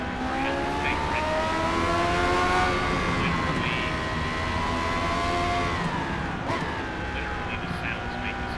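A McLaren Senna in a racing video game on the Nürburgring, its engine droning loudly and steadily while the pitch rises and falls smoothly through the laps.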